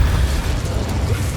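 Fiery spell blast from a wand in the game Hogwarts Legacy, a loud sustained burst with a deep rumbling roar throughout, no talk.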